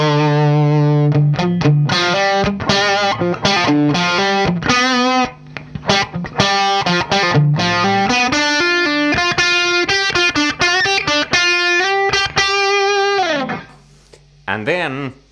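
Distorted electric guitar plays a dominant seventh arpeggio pattern, a quick run of sustained, overdriven single notes that climb and fall, loud and close, trailing off into a brief voice at the end.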